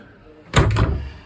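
A cabin door on a narrowboat thuds shut once with a short close wooden knock and brief rattle, alone with no talk.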